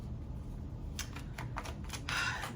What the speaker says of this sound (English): I be shuffling the cards